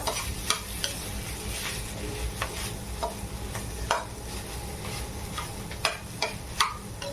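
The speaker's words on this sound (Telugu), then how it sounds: "ఆలు వేసుకున్న తర్వాత కలపండి బాగా." Potatoes stirred into a sizzling mixture in a pan, with a steady fry hiss under repeated scraping taps of the spoon at an irregular rhythm, close and moderately loud, no talking.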